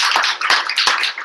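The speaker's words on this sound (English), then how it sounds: "So I really want to give Laura a round of" Audience applause in an evening talk venue: a short, close burst of hand claps, dense and even, for about a second.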